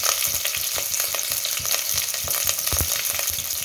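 Onion, curry leaves and red chillies frying in hot oil with mustard seeds already popped, a steady loud sizzle with occasional crackles and stirring scrapes throughout, no voices.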